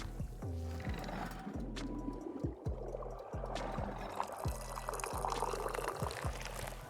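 Tea poured from a pot in the video game Wanderstop, a steady liquid splash running throughout, set against game music with repeating low tones.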